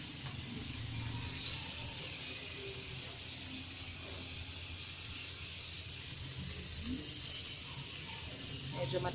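Pork sizzles and spatters steadily in hot oil, a constant crackling hiss that stays close and even throughout.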